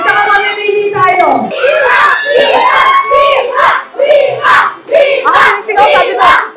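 A crowd of fans at a meet and greet shouts and screams loudly, with excited yells and whoops rising in bursts and dropping between them, over chatter from nearby voices.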